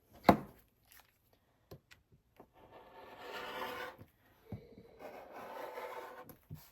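Fabric pieces for a wristlet pouch being cut, with soft rubbing and scraping scissor strokes plus a few light taps and clicks, quiet and close with brief pauses between cuts.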